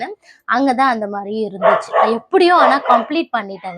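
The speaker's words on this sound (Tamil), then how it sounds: "கொஞ்சம் நாய் சத்தமாக இருந்தால் மன்னிச்சுக்காங்க." A pet dog tied up at a house entrance barks and yips nearby in short bursts, loud and close, mixed with a person talking over it.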